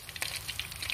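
Fish with roe sizzles and crackles steadily in hot oil in a pan, close by, with bursts of spitting pops.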